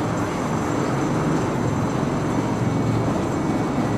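A loud, steady rumble and clatter of a passing roller coaster train on rails at Fuji-Q Highland, Japan, continuous throughout with no pauses or voices.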